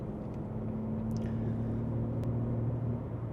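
BMW G8X M3/M4 with a DCE exhaust, valves open, cruising in busy highway traffic; a steady low engine drone with a sustained exhaust hum and road noise, no sharp revving.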